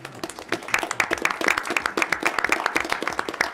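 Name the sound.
audience applause at a board meeting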